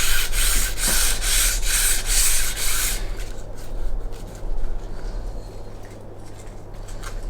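A 120-grit abrasive works over a classic Fiat 500 engine head in steady, close rasping strokes, loud and continuous at first and then quieter and patchier toward the end, with no voices.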